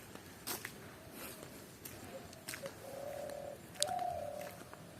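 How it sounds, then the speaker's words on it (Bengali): Birds call in hilly jungle near Belpahari: soft dove-like coos and a few clear whistled notes, fairly faint against quiet background ambience with light rustling. "আর নানান রকমের পাখি এখানে ডাকছে।"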